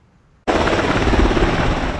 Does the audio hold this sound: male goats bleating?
no